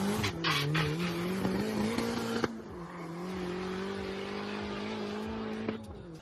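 Front-wheel-drive cars at a drag event revving hard with squealing tires, a loud sustained engine drone rising and falling in pitch, a sharp burst near the middle, close and continuous without talk.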